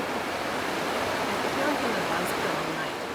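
A powerful river near Yosemite rushes at night with a loud, steady roar of churning water, and a faint voice is heard beneath the flow.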